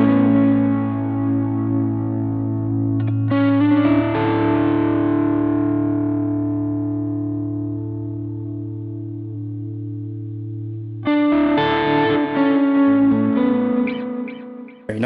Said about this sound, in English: Let's just add a space echo in if we can.